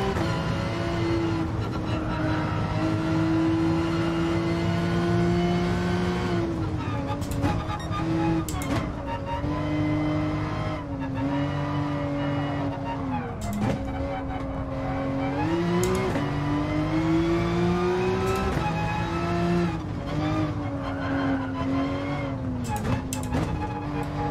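A race car engine in GT Sport holds a steady high drone, then climbs and dips through several gear changes, loud and continuous with no talking over it.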